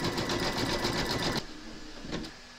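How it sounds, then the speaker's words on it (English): An embroidery machine stitches a satin stitch border on an in-the-hoop appliqué scarecrow, running in a fast, steady rhythmic clatter up close before stopping abruptly, followed by a quieter hum and a short final burst. "pop your hoop into your machine and stitch round number 16, and that's going to do the satin stitch border"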